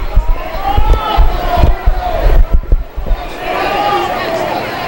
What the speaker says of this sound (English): Revs pitcher struggling to throw some strikes, and they're hearing it from the crowd.